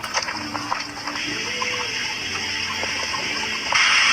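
Water rushes and gushes steadily over a small dam nearby, a continuous flowing wash with faint tonal hum underneath.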